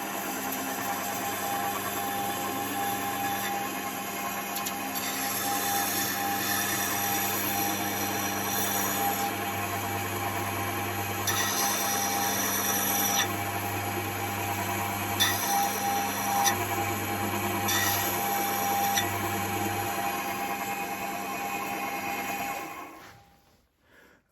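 Steady grinding whine of a skew chisel for wood turning being sharpened on a powered sharpening disc, droning continuously with slight shifts in pitch as the tool is pressed on, running alone before the motor cuts off near the end.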